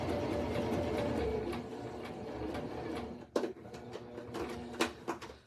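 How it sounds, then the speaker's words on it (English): A Singer Start 1304 sewing machine runs a continuous curved line of stitches, a steady close whirring hum that breaks off near the end into a few short bursts and clicks. "We'll just go ahead and just sew, and we won't lock those stitches in place."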